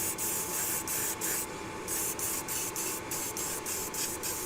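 An airbrush spraying a final wet coat of purple paint: a continuous close hiss broken by short regular pauses as the spray passes, with a steady hum underneath.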